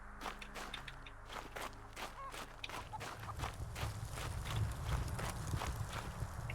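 A donkey walking on hard ground, its hooves giving a steady series of close clip-clop steps, moderately loud and alone, with a low rumbling background growing in the second half.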